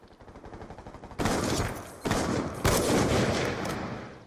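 Rapid bursts of gunfire in a video game, a steady rattling volley that starts abruptly and is joined by further loud bursts, heard alone without talk.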